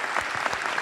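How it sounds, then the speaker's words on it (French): Short burst of dense audience applause at a science lecture, a steady close wash of many hands clapping with no voices over it. "Je vous demande un tonnerre d'applaudissements"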